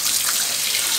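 Bath water runs steadily from a tap, a continuous broadband rush that stays at an even level for the whole second with no voices over it.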